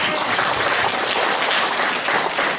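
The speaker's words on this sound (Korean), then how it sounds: "하나님께 영광의 박수." A church congregation breaks into sustained applause, a dense, steady wash of many hands clapping together at even loudness with no talking over it.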